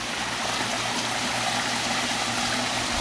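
Steady water flow in a 4,000 gallon koi pond run through an Ultima 4000 bead filter and two 50-gallon barrels of Japanese mat, a constant close rushing trickle with a low pump hum beneath, no voices.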